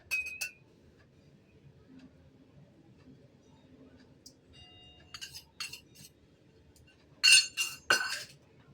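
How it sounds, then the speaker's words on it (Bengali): A spoon mixes basanti pulao in a pot, mostly quiet, then a few sharp metallic clinks and scrapes cluster in the second half, the loudest near the end. "এবার আমি মিশিয়ে নিচ্ছি।"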